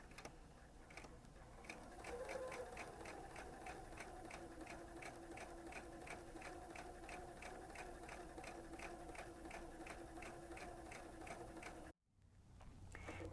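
A sewing machine stitching rickrack onto a napkin, running at a steady, rapid rhythmic clatter for about twelve seconds before briefly stopping and starting again.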